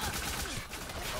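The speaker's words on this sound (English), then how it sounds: "Ooh, rapid fire VMP." A rapid-fire VMP submachine gun in Black Ops 3, played on PS5, lets out a brief, dense, continuous burst of fast gunfire that fills the whole moment, with a voice mixed in.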